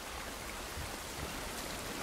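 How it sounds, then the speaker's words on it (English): Steady outdoor rainfall in The Last of Us Part 1 video game, a dense, even hiss of drops hitting surfaces, continuous and moderately faint with no voices. "This rain ain't gonna do us any good."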